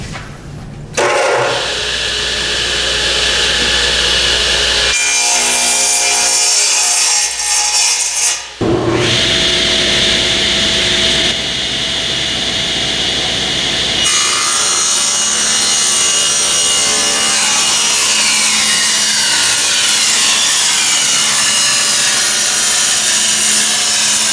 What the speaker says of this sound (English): we are going to cut 4 pieces of wood at 29 inches